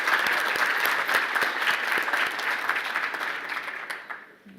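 Audience applause for the Haida Nation during a presentation, a full burst of many clapping hands that holds steady and then tapers off to quiet.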